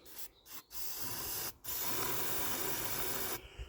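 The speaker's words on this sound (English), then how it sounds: "we're definitely going to need some carb spray up there" Carburettor cleaner spraying in hissing bursts into an engine: a couple of brief squirts, then a long continuous spray, close and loud with short pauses between.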